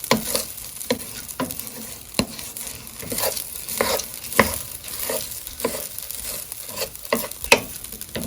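Rice toasting in a pan for a pilaf gives a light sizzle, with repeated scraping stirs and soft pattering taps at close range and no speech.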